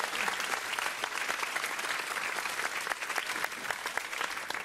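Studio audience applause on a German game show, a steady dense roar of many clapping hands that holds at an even level throughout, with no voices breaking through.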